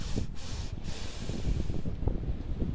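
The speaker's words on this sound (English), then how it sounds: "And as I sniff, I feel myself inflating." Close, breathy nasal sniffs draw air in, a couple of quick inhales over soft, rumbling background noise.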